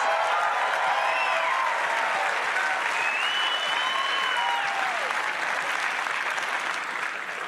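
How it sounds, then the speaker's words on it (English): A packed political rally crowd applauds, a loud, sustained roar of many hands clapping, with whoops and whistles rising above it throughout. "give yourselves a round of applause"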